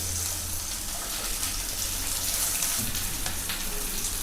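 Capsicum sizzles in hot oil with garlic for restaurant-style chilli paneer, a steady close-up frying hiss throughout with a faint stir or clink near the end.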